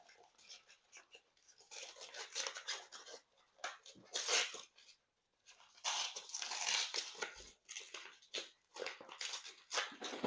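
Scissors snip and tear open a small plastic pack holding gold, with crinkly cutting, rustling and handling noises coming in close bursts over about ten seconds.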